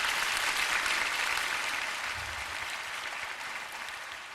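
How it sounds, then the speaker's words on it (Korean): An audience at a lecture event claps together in a steady wash of applause that holds strong, then gradually softens over several seconds, with no talking over it. "우리 응원의 박수 한번 보내주시기 바랍니다."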